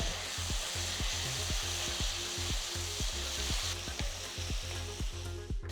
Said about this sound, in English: Keep the flame on high and saute all the ingredients